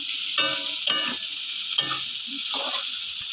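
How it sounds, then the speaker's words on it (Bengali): Vegetables with turmeric fry in a pan, a constant bright sizzle broken by several short scraping stirs of a spatula, close and moderately loud, without speech. "এখন দেখো সুন্দর হয়ে গেছে সবগুলো সবজি, হলুদ হলুদ। এখন এটা ভাজার পালা।"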